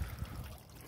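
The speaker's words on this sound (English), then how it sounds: "got the water flowing on this side" Water trickles steadily from a backyard turtle and fish pond waterfall and bog filter, a soft, faint continuous dribble with no voices.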